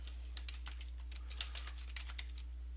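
Quick, light keystrokes clatter on a computer keyboard in an irregular run of soft taps, close and fairly quiet over a low steady hum.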